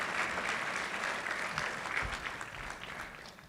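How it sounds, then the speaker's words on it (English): Graduation ceremony audience applauding steadily, a dense wash of clapping hands held at even loudness throughout, with no speech over it. "Can we give them another round of applause"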